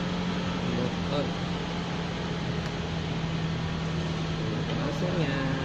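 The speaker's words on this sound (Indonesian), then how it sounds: "Kita nyalakan AC." Air conditioning runs in a 2014 Toyota Vellfire as a steady, even whoosh of blown air with a constant low hum, continuous and close throughout.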